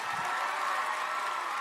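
Crowd noise from an audience in a room going wild, a dense, steady wash of applause and cheering that stays loud and even throughout.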